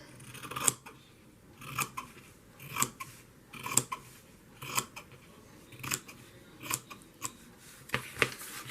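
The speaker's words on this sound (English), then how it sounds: "I am going to cut off the white." Scissors snip through paper while trimming white edges for a shabby-chic flea-market journal, a steady run of about eight crisp cuts spaced roughly a second apart, close and clear with no talking.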